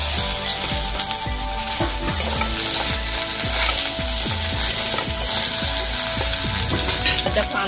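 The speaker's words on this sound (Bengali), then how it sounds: "বড়ির ভেতরে এখন সব সবজিগুলো দিয়ে দিচ্ছি" Vegetables tumble into a hot cooking pot for Bengali shukto, a loud steady sizzle of frying with repeated wooden stirring knocks and scrapes close by.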